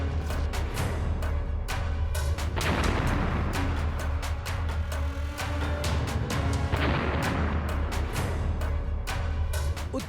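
Russian artillery and missile fire shelling the Kharkiv area of north-eastern Ukraine, near the Russian border, heard as a dense, continuous barrage of loud booms and sharp bursts with no voices.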